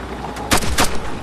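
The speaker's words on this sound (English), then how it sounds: "So I pull out my pistol." A couple of quick pistol shots in the Ghost Recon: Future Soldier shooter, loud and close, with two sharp cracks about a third of a second apart over steady game background noise.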